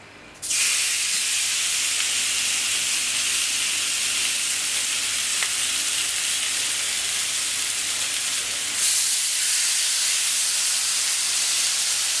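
Iberian pluma pork sears on a hot plancha, a steady loud sizzle that holds unbroken from start to finish with no one talking.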